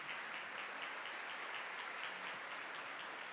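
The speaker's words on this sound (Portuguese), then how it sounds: "Pode aplaudir isso." A church congregation at a Holy Thursday Mass claps together, a soft, even patter of many hands heard from a distance, steady throughout.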